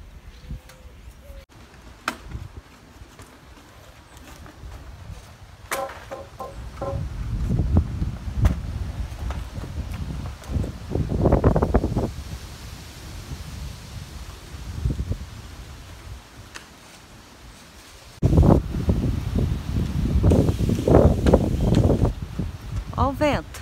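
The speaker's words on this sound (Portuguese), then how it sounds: "Olha o vento." Wind gusts buffet a shed with a fiberglass roof and steel cable bracing, coming as rough low rushes that swell and fade, with the heaviest blast near the end and faint rustling between gusts.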